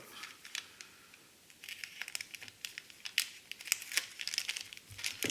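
Close, quiet crinkling of taped plastic packaging on a Trumpeter Bismarck battleship model kit, with sharp crackles and small tearing sounds, coming in irregular bursts as it is pulled apart.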